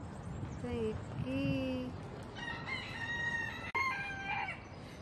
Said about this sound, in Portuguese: Os galos.